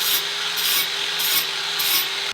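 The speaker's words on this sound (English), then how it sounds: "I moved on to doing my normal prep, which involves beveling the edges" The edges of a metal tube for anti-wheel intrusion bars on a drift car are bevelled, with four slow, regular rasping strokes close to the microphone and no talk.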